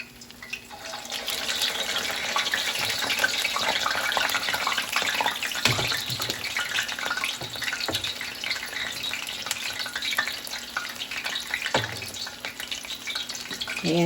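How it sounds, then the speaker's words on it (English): Hot water cornbread patties fry in a pan of oil, a steady close sizzle and crackle running throughout, with a couple of brief clatters from handling along the way. "So you just want to cook them till they're crispy brown."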